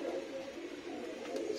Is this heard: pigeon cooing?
yes